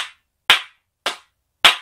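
Four sharp hand claps from a rabbit clapping hand game. The claps are crisp and close, spaced about half a second apart, with silence between them and no talking.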